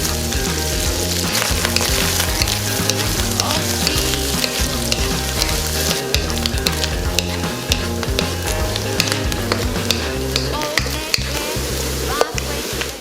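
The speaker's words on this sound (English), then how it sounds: "we are going to stir fry spam until nice and golden brown all around the edges" Spam cubes stir-fry in cooking oil over high heat, giving a loud, continuous sizzle and crackle up close, broken by frequent clatters of a spatula against the pan throughout.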